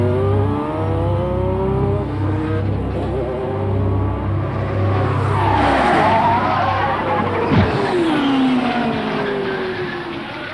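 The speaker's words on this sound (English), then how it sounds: "Going into turn 1, Mansell lost control of his car and hit the wall at 180 miles an hour" Nigel Mansell's IndyCar at the Phoenix oval loses control in turn one and slams into the wall at 180 mph, a loud engine whine sweeping down, tyres skidding, then a sharp impact and scraping, under a talking voice.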